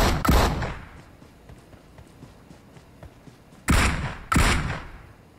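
In the mobile battle royale game PUBG Mobile, three loud, sharp gunshots ring out: one at the start and two close together near the end. Faint footsteps and quiet shuffling fill the gap between them.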